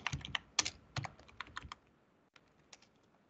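A computer keyboard clatters with a quick run of keystrokes during Java programming, then pauses briefly before a few more scattered taps, close and fairly quiet with no talking.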